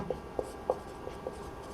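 Pen writing down the given values of a class 12 maths problem, a few light taps and short scratches spaced irregularly, close but faint.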